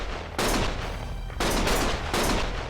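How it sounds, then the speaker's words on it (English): Heavy gunfire in the Lost Judgment video game comes in dense sustained volleys, three long loud bursts separated by short gaps, near and harsh with no speech. "Stop shooting!"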